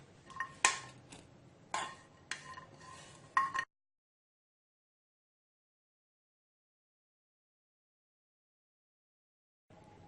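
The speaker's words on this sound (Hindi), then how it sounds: "तो अब इसके अंदर मैं जो है अपने ड्राई फ्रूट्स डाल दूंगी जो मैंने अभी फ्राई किए थे" Fried dry fruits going into boiled milk for sheer khurma, heard as several close metallic clinks and scrapes of a spoon against a pot in the first few seconds, then silence.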